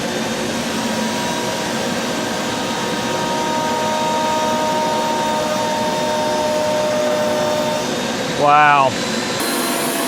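Woodworking dust collector roars steadily at full blast, a dense broadband rush with a faint whine, running continuously under a brief spoken exclamation near the end.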